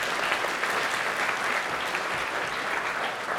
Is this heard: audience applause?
yes